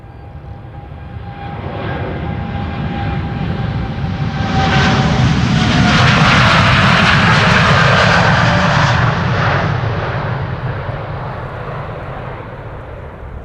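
TUI Boeing 787-8 Dreamliner jet on the runway threshold at Schiphol Airport, a loud sustained engine roar that swells to a peak around the middle and stays steady and close, with no voices.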